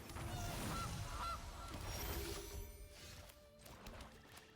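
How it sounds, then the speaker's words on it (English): A goose honks amid the sounds of a Magic: The Gathering Pioneer card game, a few loud honking calls over a dense, noisy background that fades slightly toward the end. "Goose!"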